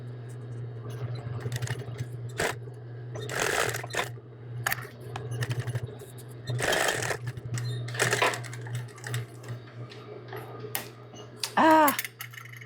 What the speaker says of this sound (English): I'm going to stitch same thing on those back flaps to keep them secured to the hood